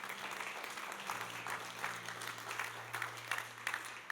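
A church congregation applauds during a Spanish-language evangelical service, a steady moderate wash of clapping running throughout with a low steady hum beneath.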